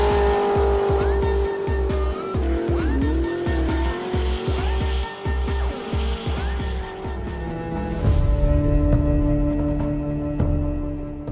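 A race car engine screams at high revs with repeated gear-change pulses and tire squeal, close and loud, sliding into a sustained skid and rumble near the end.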